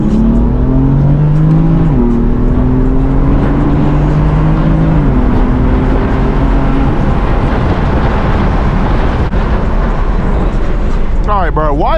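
A BMW M4 cruising on back roads, its engine droning loud and steady with gear-change pitch steps and rising, falling revs, under road and wind noise.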